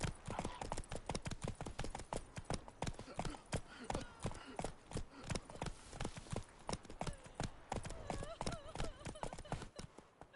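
Horse hooves galloping in The Witcher 3, a fast, rhythmic clip-clop of strikes running continuously and close, with a few quiet voice-like sounds mixed in.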